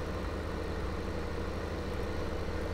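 In Farming Simulator 2015, a tractor engine drones at a steady low idle, constant and moderately loud, with no voices over it.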